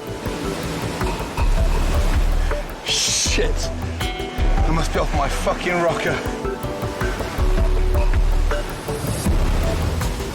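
Powerful Atlantic waves surge and crash against coastal rocks in a loud, continuous roar, with someone speaking over the churning water.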